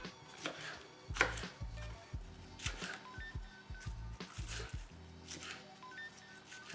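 A knife rough-chops fresh chives on a cutting board for Trini green seasoning, giving close, uneven rapid thuds in short bursts with pauses between them.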